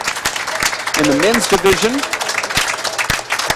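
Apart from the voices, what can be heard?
applause from the crowd at a handball final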